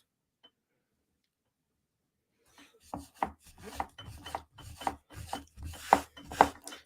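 Fingers rub Sharpie marker ink off the edge of a Chris Reeve Sebenza tanto knife, a series of close, short scraping strokes in quick irregular rhythm after a quiet start.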